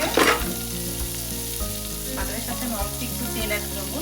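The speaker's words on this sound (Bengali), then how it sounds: "এখন দিয়ে দিচ্ছি চিকেন ভাজার জন্য একটুখানি বাটার" Butter melts in a hot pan before chicken is fried, giving a steady crackling sizzle with a few stirring scrapes, all under continuous background music.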